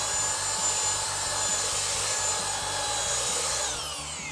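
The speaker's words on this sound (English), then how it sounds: "So now when you start sanding, it'll grab the piece of wood and keep it from moving." Power sander running on a piece of wood held by a grip pad, a steady droning whir with a high whine, fairly quiet and even throughout, winding down near the end with no talk.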